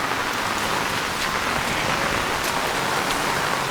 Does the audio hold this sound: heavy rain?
yes